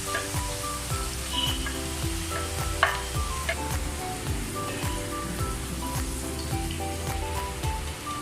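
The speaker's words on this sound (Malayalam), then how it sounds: "ഇതിലേക്ക് അരിഞ്ഞ് വെച്ച സവാള ഇട്ട് വറുക്കാം." Sliced onions frying in hot oil, a steady crackling sizzle with scattered pops and occasional stirring scrapes, fairly close and continuous with no talk.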